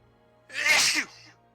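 A single sharp sneeze bursts out close by, brief and loud against a quiet room with a low steady hum underneath.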